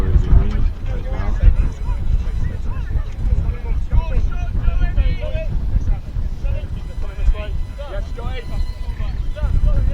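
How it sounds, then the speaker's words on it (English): Strong wind at an amateur football ground gusts and buffets the microphone in a continuous low roar, while someone talks over it. "I can show you the wind right now"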